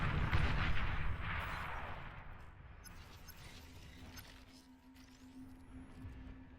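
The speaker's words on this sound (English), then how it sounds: "Enemy commander destroyed." Video game explosion as an enemy commander unit is destroyed, a heavy booming blast that decays over a couple of seconds into a rumbling tail, followed by fainter mechanical sounds and a rising electronic tone.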